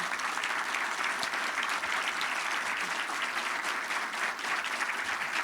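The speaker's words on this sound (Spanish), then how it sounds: "Más fuerte el aplauso para la agrupación." Standing audience applauding a performing group at an army health and dental service anniversary ceremony, a dense continuous clapping wash, steady and moderately distant, with no talk over it.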